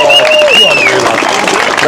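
Crowd at a junior race cheering and clapping in a short burst, with an announcer's voice carrying over the applause.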